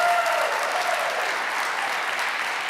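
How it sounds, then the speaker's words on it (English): An audience claps before a live concert by a musician and his band at the Center, a dense, sustained burst of applause from a crowd at steady loudness throughout, with no voices standing out. "Those of you who are here in the audience, you're allowed to clap"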